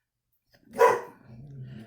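Dogs give one loud, close bark, followed by a low whimpering whine trailing off afterward.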